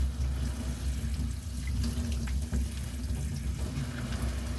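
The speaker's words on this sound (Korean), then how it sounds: "말린 도라지는 흐르는 물에 씻어 물 250ml에 담가 불려서 잘게 자릅니다." Tap water runs steadily over dried bellflower root (doraji) being rinsed in a sink, a continuous close splashing rush with no talking.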